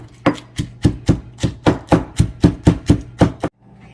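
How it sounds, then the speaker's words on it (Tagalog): Shrimp shells pounded with a pestle or similar tool in a kitchen, giving about a dozen sharp, evenly spaced thuds that are loud and close, followed by a quiet pause. "ito na yung balat ng shrimp natin Didikdikin natin siya ganyan."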